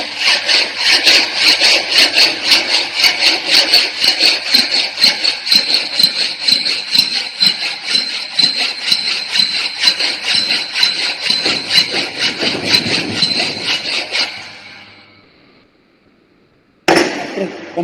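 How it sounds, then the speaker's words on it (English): Hand file working a metal workpiece clamped in a vise, rapid repetitive rasping strokes at an even rhythm, loud and close, running for about fourteen seconds before stopping, then a brief resumption at the end. "This is the filing process."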